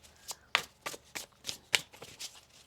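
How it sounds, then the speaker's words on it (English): Several quick riffling bursts of tarot cards being shuffled, close by, arriving in an uneven rhythm with brief pauses between them. "One more shuffle."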